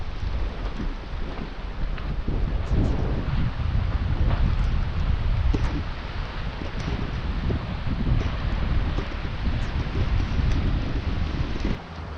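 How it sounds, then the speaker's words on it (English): Steady heavy rain pours with gusty wind buffeting the mic and low thunder rumbling underneath, in Scotland. "Aye, proper rain now."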